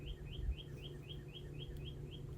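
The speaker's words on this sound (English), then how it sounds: "You hear that bird?" Bird chirping outdoors, a steady series of about eight to ten short, evenly spaced high tweets over a low background hum, moderately distant and alone with no talk.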